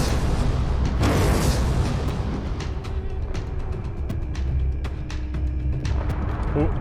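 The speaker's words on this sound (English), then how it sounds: "Battleship cannons landing hot and heavy on Rio" Heavy booming battleship cannon blasts and explosions in the space combat game StarCore roll continuously under excited commentary, with sharp impacts cracking through a dense, rumbling game soundscape.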